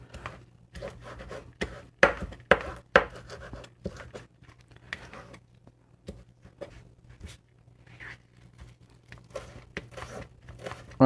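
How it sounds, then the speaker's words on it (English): A knife chops salicornia sea beans on a cutting board, giving irregular crunchy cuts and taps up close, some sharp and some softer, with no talking. "This is not chopping very well."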